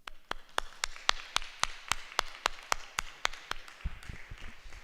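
Small audience clapping after a book presentation on empire, revolution and caricatures, heard as a series of sharp, regular claps, close and fairly loud, easing off near the end with a low thump.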